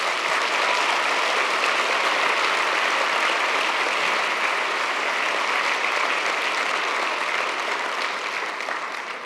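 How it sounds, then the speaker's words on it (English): Sustained, loud applause from a large audience, steady dense clapping throughout that tapers slightly at the very end. "I'm sure we can manage a huge round of applause again for Mohammed Sidibe."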